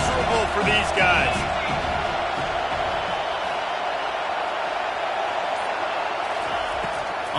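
Home crowd cheering in a Madden football game, a steady broad roar of a stadium crowd running throughout beneath a voice talking.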